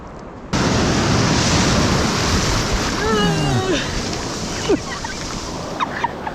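Ocean waves break on a beach in a loud, continuous wash of surf with wind noise, and a voice briefly calls out over it partway through.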